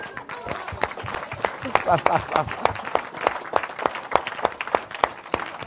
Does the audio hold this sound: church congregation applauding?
yes